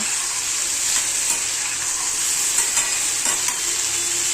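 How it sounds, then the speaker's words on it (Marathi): Chopped brinjal and onion fry in oil with a loud, steady sizzle up close, a spatula stirring and scraping through it with no one speaking. "हे वांग असं तेलामध्ये चांगलं परतवून घ्यायचं"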